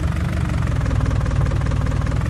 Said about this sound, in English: This is a 150 horsepower tractor